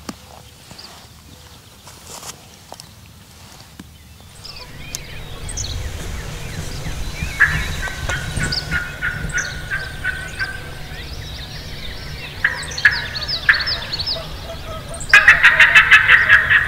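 Distant wild turkeys gobble in repeated bursts over steady outdoor rustle and low rumble, the last burst louder and nearer.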